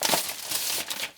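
Plastic bag holding Iron Man model kit parts crinkled and torn open up close, a dense, continuous rustle with sharp crackles throughout.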